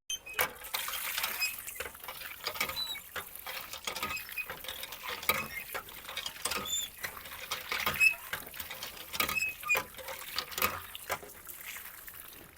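Mangoes being washed by hand in water, with steady splashing, sloshing and patter of fruit and water at close range, continuous throughout with no talking.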